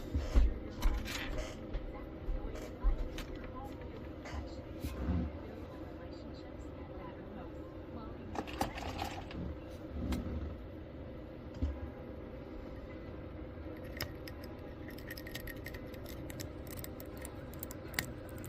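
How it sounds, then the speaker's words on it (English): Something scrapes across the back of stencil paper laid on a metal Zippo lighter, producing faint, scattered scratchy strokes and creaks in irregular bursts at close range. "Now you're going to scrape the back of the paper with something."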